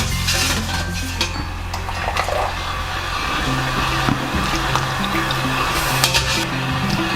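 A glass of water is poured into a hot uruli while making ash gourd petha, giving a steady, loud hissing sizzle with rushing water and faint metallic clinks throughout.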